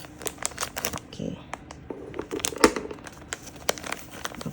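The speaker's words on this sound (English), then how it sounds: "Let's just use this to cut open the stuffing and see how it is." A plastic packet of cotton stuffing from a crochet subscription box is cut open, with crisp crinkling and rustling in quick, irregular bursts close by, while a person speaks briefly.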